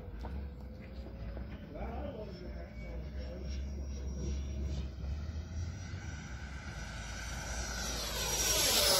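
Freewing T-33 RC jet with a HK 1850kv motor and ducted fan flying over a runway near mountains in wind, a distant whooshing drone that grows louder as it approaches near the end, alone without talk.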